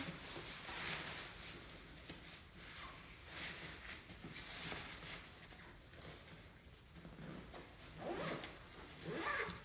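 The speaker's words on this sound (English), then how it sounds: "Zip it up." A zipper is pulled shut along a carryable baby bed, a series of quiet raspy zipping strokes in bursts, close and soft, with no talking.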